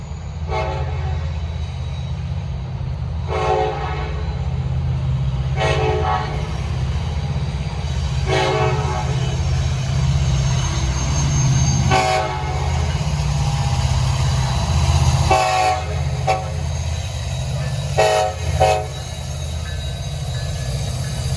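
A Norfolk Southern freight train led by EMD locomotives passes on the Charlotte District, sounding a loud horn in repeated blasts every few seconds over a steady, heavy low rumble of rolling cars, close by, with no talk.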